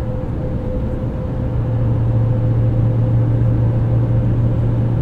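Steady, loud diesel rumble of a 2024 Chevrolet Silverado 2500HD ZR2 with Duramax engine and automatic transmission while towing, heard from the cab as it pulls under power with a constant low drone.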